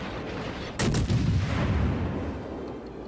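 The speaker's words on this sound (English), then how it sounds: "we'll keep pumping high explosive rounds into him" Naval guns firing high explosive rounds in a ship battle game, two sharp heavy blasts in quick succession followed by a rolling low rumble, loud and close against steady ambient noise.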